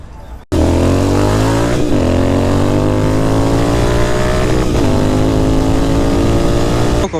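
A motorcycle accelerates hard while lifting into a wheelie: a loud, close engine roar with a sharp rising rev, a shift at about two seconds and another near five, then it keeps pulling steadily to the end.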